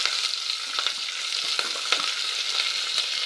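Chopped onion and two green chillies, plus cashews, frying in a pan for capsicum rice: a dense, steady sizzle and crackle that runs throughout, fairly loud, with no talking.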